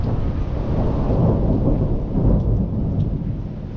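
A long, deep rumble of thunder from a moderate storm in the Chartreuse rolls steadily through the whole stretch, with a soft hiss of rain underneath and no voices.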